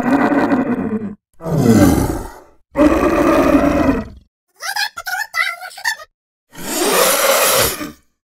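Designed monster roars for a video game: a series of loud, guttural growls and snarls separated by short silences, including one raspy, stuttering burst and a final broad roar, with no speech.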